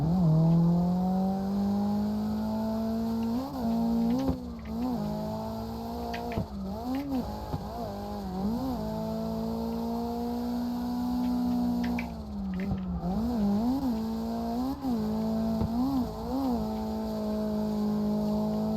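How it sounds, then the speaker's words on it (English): Mazda RX7 with an SR20DET engine being clutch kicked on a track, the engine droning steadily with repeated sharp revs and pitch dips as the clutch is kicked, fairly close and continuous. "I'm clutch kicking, trying to get the car to get to the zone"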